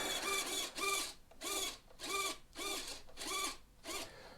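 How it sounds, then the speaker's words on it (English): Servo on a Volantex Phoenix 2400 RC glider moving the elevator under manual control from a servo tester, a faint, close, buzzing whir repeating about seven times in a steady back-and-forth rhythm, with no voices. "let's put the servo tester into manual mode, and we have a working elevator"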